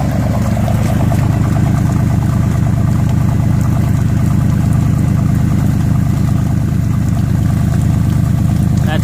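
A 2009 Mercedes C63 that was submerged in Harvey floodwaters idles steadily close by, a continuous, slightly rough low engine drone with rapid exhaust pulsing that holds even throughout.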